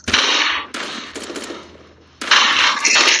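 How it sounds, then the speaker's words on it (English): Sniper rifle fire in the video game 1v1.LOL, with loud, sharp blasts that each ring out briefly, coming in separate bursts with short gaps between them. "There's snipers in this."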